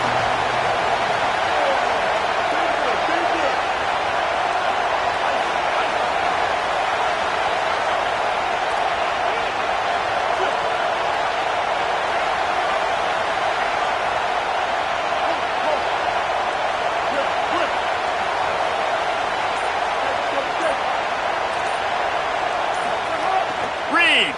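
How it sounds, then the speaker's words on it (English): A stadium crowd at an American football game roars steadily as the defense lines up on third down, a dense, sustained wall of cheering that never drops for the full stretch, with a commentator talking over it. "Decibels rising as the crowd gets behind this defense on third down."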